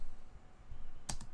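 A couple of crisp computer keyboard keystrokes close up, a quick double click near the end over a faint low background, with no speech.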